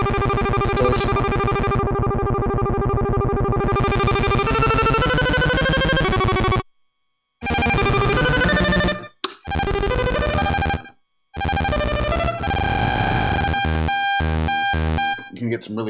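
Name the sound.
analog synthesizer with distortion effect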